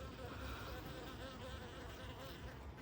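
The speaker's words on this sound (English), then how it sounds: "The mean bees are here." Honeybees buzz around an open hive. The soft, continuous, wavering hum comes from many insects close by, with no talk.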